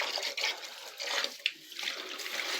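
Water pours and splashes steadily into a container, a continuous close rushing sound with small bubbling shifts and no voices.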